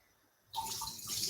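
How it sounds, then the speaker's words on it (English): Water splashes and pours over rice during a second rinse in a home kitchen, a steady broadband wash of running water starting abruptly midway and continuing close and loud. "Second bit of rinse to the rice."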